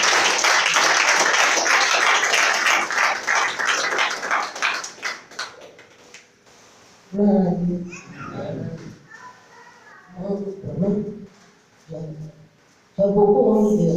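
Church congregation applauding: dense, steady clapping for about six seconds that fades out, followed by a few short spoken phrases and pauses.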